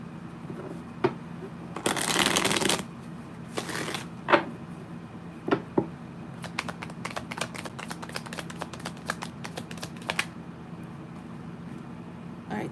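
Tarot cards are shuffled in short bursts of crisp riffling and flicking, with scattered taps and quiet gaps between them, close and fairly soft.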